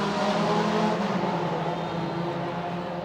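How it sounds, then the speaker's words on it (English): Race cars roar steadily at the Pittsburgh Vintage Grand Prix, a loud continuous engine drone heard from a nearby hilltop, one car's pitch rising slightly as it passes, with no talk. "I hear the race cars, so we must be getting close"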